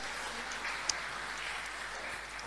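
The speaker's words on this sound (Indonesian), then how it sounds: "Tepuk tangan dulu buat ini" Applause from a church congregation during a sermon, a steady crowd clapping wash at moderate level throughout, with no talk over it.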